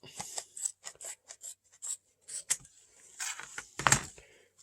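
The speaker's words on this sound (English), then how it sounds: "I save old like bleach bottles, and I'll just cut a piece out" Scissors cut a piece from an old plastic bleach bottle in a series of crisp, close snips with short pauses between them, ending in a louder crunching cut.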